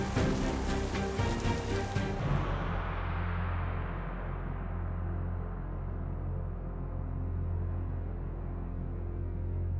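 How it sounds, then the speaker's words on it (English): Steady rain falls in the Ecuadorian Amazon rainforest with a dense hiss and a low roar, continuous and close, following a brief burst of busier sound at the start. "and of course a lot of rain"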